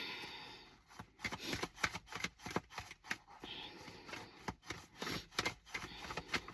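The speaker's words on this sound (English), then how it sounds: "All right, let's shuffle." A deck of tarot cards is shuffled by hand, producing repeated crisp riffling bursts and soft slaps at close range over several seconds, with brief pauses between passes and no talking.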